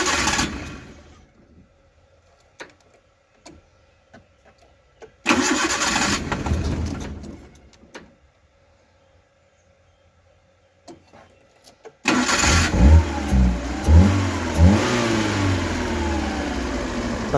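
A Maruti Suzuki Eeco van with a freshly cleaned throttle body and LPG connection cranks and starts, then revs loudly in bursts after quieter idle stretches, the engine close and dominant.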